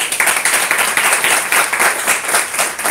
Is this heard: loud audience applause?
yes